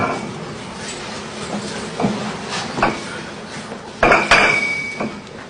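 Gold bars clink in several bright metallic rings over a steady background hum, the strongest pair near the end sounding glassy and crystalline with a lingering shimmer.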